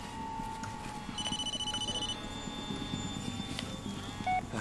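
Phone ringing in the Blair Witch video game: a repeated electronic ring with a steady pulsing rhythm over low ambient game noise and faint footstep-like clopping.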